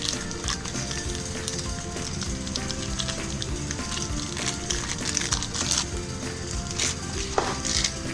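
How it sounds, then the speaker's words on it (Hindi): Mutton keema kebabs fry in a pan with a steady, crackling sizzle of hot oil, heard close up with scattered pops and no talking. "अब इनको मैं फ्राई करती हूँ"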